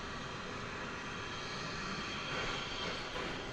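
A Delta Airbus jet airplane at DFW Airport, its engine roar a broad steady rumble and whine that swells slightly toward the end, heard alone at moderate distance.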